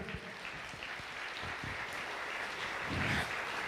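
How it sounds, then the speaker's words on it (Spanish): An audience at a municipal public accountability hearing in Donmatías applauds steadily, a dense even patter of many hands that swells slightly near the end. "démosle un más fuerte aplauso porque el hospital está al día"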